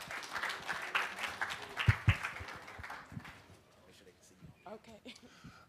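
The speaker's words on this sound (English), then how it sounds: "So let's give them a round of applause as they come forward." Scattered audience applause at a student athlete summit, with individual claps close by that thin out and fade over several seconds as people talk.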